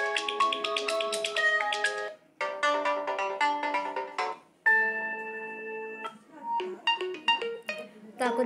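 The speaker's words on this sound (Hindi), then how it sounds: "मैं आपको जो रिंगटोन है प्ले करके दिखा रही हूँ।" Several short ringtone melodies on an Oppo A52 phone play one after another, bright chiming tones with brief gaps between them, clear and up close.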